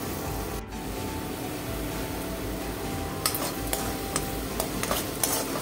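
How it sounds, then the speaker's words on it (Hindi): Masala paste stirred in a pan over heat for pav bhaji, a soft continuous sizzle with a steady rhythm of scraping taps from the spoon against the pan in the second half. "डाल के थोड़ा सा उसको चलाएंगे।"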